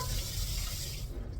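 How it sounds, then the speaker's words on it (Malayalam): Tap water runs steadily and close by as raw chicken is rinsed in a sink, a continuous broadband splashing hiss with no talk over it. "ആദ്യം നമുക്ക് ചെറിയതായിട്ട് ഇച്ചിരി വെള്ളത്തിലൊന്നും ഇങ്ങനെ കഴുകിയെടുത്തിട്ട്"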